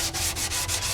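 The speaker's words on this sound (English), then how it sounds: "We're going to do the sanding." Rhythmic rasping of sandpaper worked back and forth on Suzuki GSX-R 1000 track motorcycle bodywork, several quick even strokes, close and loud.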